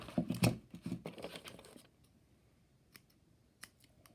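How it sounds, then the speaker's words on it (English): Sharp scissors snip loose thread ends during slow hand stitching, a cluster of quick, close cuts in the first two seconds, then a couple of faint, isolated clicks in a quiet room. "Right, so I can just cut those ends."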